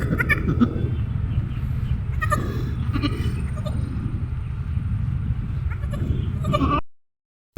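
A goat that has just given birth bleats several times, close and fairly loud, over a steady low background hum that cuts out abruptly near the end.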